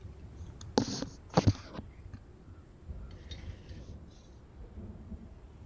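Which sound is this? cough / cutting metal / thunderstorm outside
thunderstorm outside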